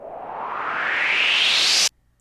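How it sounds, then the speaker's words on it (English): A synthetic swipe effect from the Djuced DJ app on an iPad rises steadily in pitch over about two seconds, growing louder, then cuts off abruptly into near silence. "Here's the swipe."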